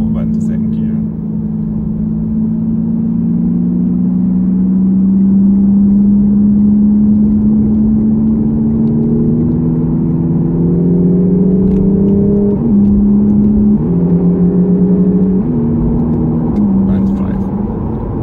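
A 2019 Lexus RC300h F Sport hybrid's engine hums steadily after shifting into second gear, its pitch rising gradually as it speeds up, with a few small shifts, loud and close from inside the cabin.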